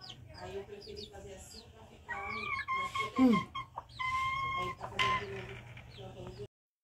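A hen clucks repeatedly while pecking at young chicks in a farmyard, the short calls rising over a steady low background hum, with someone talking intermittently through and between them.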